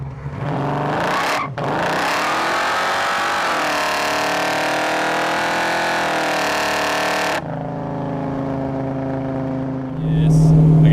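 A BMW with torque converter launches hard off the line, its engine roaring up through a long rising rev, a brief break at a gear change, then pulling on loudly and close, with voices faintly under it.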